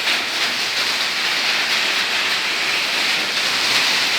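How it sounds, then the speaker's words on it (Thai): Heavy rain pours down in a steady, dense hiss, loud and continuous throughout with no breaks. "ฝนตกหนักมาก"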